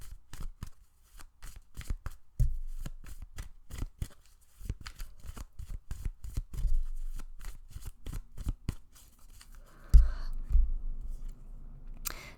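Tarot-style cards shuffled during a card reading, a quick series of soft riffling flicks and taps close up, repeated in uneven bursts with no talk.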